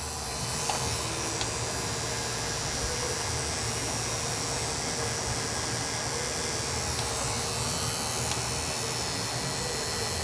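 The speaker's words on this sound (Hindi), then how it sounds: "अभी इसके जगह पे हम लोग चेक करेंगे 795 बियरिंग मोटर।" An RS 795 bearing DC motor runs steadily, giving a continuous high-pitched whine with broadband hiss and a low hum throughout, even in level with no pauses or speech.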